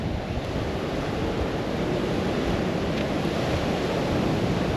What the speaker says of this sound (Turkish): Çok fena bir rüzgar var ama acayip de güzel.